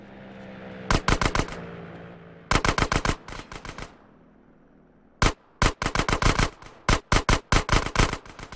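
In GTA San Andreas, automatic gunfire rakes a van, close and loud in sharp bursts of rapid shots with pauses of near quiet between them and no talk.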